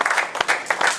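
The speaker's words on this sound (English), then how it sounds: "let's give my sister here a round of applause" A brief burst of applause from a congregation at a Shabbat service for Shavuot, several close claps in a short loud run.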